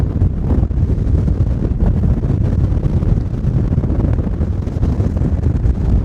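A Sunseeker 65 Sport Yacht with 2,000 horsepower runs at around 25 to 30 knots, giving a loud, constant low roar of engine, rushing water and wind buffeting the microphone, with no speech.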